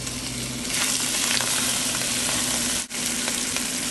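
Shrimp seasoned with white pepper hit a couple tablespoons of olive oil in a pan, a loud, steady sizzle that swells just after starting, with a brief dip near the end and no talk.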